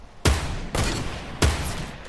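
Three sharp, loud shots from a scoped rifle in a shooter video game, evenly spaced about half a second apart, each with a short ringing tail and no talk.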